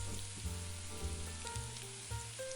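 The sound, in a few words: halved cherry tomatoes sizzling in pan with onion, garlic, butter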